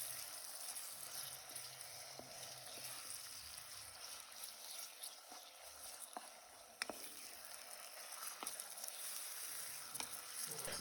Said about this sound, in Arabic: بضيف زيت زيتون وبضيف عليه الدجاج، بحركهم كتير منيح